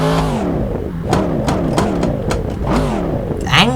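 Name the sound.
quad exhaust V8 engine revving in video game Assetto Corsa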